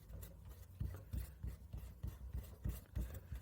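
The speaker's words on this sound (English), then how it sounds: "I'm going to rough up all the rubber around that area." Sandpaper roughing up the rubber around a tyre puncture, a series of short rasping strokes at a steady back-and-forth rhythm, close and fairly quiet, with no voices.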